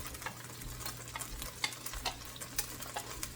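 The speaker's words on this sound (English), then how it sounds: "we're just going to get some browning on our rice" Rinsed rice, about three cups, toasting and browning in a hot pan for rice pilaf, with a steady sizzle and irregular scraping stirs of a utensil close by.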